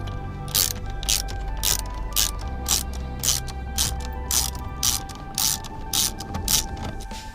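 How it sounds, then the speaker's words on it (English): A ratchet driving a T50 bit clicks steadily as it loosens a steering wheel bolt, about a dozen crisp, evenly spaced ticks over a low background hum, close and fairly loud with no voices. "Then you're going to use a T50 bit to remove the first bolt."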